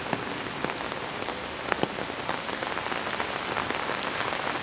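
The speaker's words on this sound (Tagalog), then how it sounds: "Blessing daw yung ulan." Heavy rain pours steadily onto a surface, a dense hiss with scattered louder drops pattering close by, no voices.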